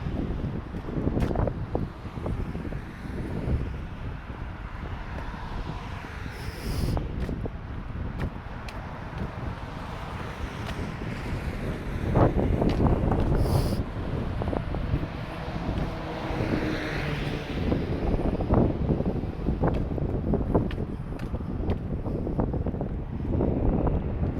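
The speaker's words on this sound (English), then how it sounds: "Hopefully we won't hear that wind too much. There's a little bit of a breeze" Wind buffets a microphone outdoors on a mild January walk through Halifax, producing continuous low rumbling gusts that rise and fall over a broad hiss. The wind is loud and close throughout, with no talking.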